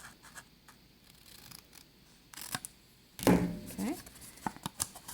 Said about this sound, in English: I'm going to cut out my corners.